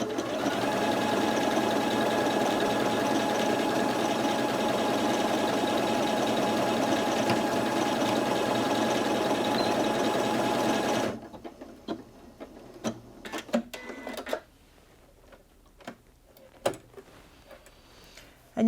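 A Janome Atelier 6 Anniversary Edition sewing machine runs a mirrored decorative stitch pattern, a loud continuous whir for about eleven seconds, then stops and leaves scattered clicks and handling taps.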